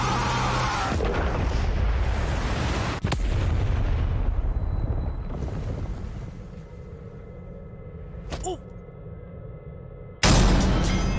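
Firework-style explosion effect from an animated superhero fight, loud booming bursts and crackling blasts with a rumbling decay between sharp hits, ending on another heavy boom.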